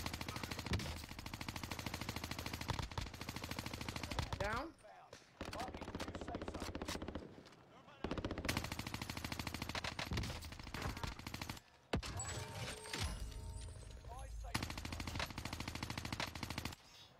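Assault rifle fire in the battle royale game Warzone: long rapid automatic bursts, loud and dense, broken by brief pauses and a few short gaps where the shooting stops.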